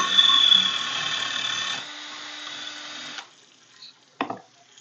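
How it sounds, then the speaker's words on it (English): A power drill whines steadily for a few seconds while drilling a hole in an empty glass bourbon bottle, drops in pitch, then stops, followed by a couple of light clinks. "Now I'm going to drill the larger hole."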